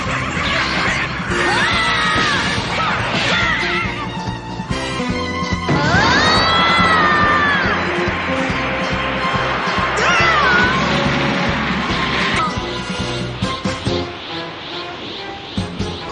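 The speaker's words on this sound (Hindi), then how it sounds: "उसकी एक चीख ने उन सबको हवा में उड़ा दिया।" An animated show's character lets out a powerful scream that blasts others into the air, with rising and falling shrieks over a dense, loud mix of crashing impacts and rushing noise.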